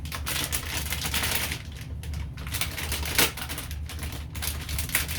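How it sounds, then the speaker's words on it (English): A knife cuts lengthwise through the top of a cardboard box holding an Antminer S19K Pro, giving a close, steady scratchy crackle with brief sharper snaps as the blade drags through the cardboard. "I think I'm going to cut the top"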